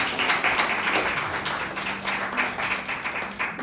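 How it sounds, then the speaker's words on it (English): Audience clapping at a Women's History Month event, a steady, moderately loud patter of many hands with uneven bursts, continuing for several seconds with a voice briefly audible beneath. "Give her a round of applause, please."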